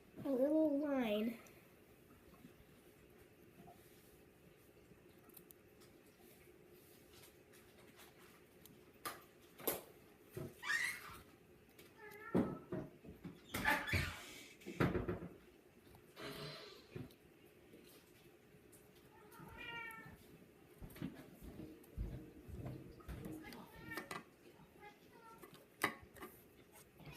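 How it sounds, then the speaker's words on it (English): Pet cats meowing for food at home, several short rising calls scattered through the stretch amid faint rustling and handling noises, with a louder cry at the start and more mews later, moderately near. "those are my cats. They're always meowing for food."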